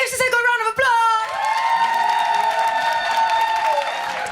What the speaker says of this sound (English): Give Siseko a round of applause!